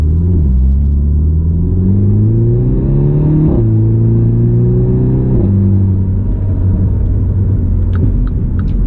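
A MINI fitted with an aftermarket exhaust revs hard at high RPM, its loud engine note climbing and dropping in stepped harmonic sweeps, close and alone, with a few sharp pops near the end.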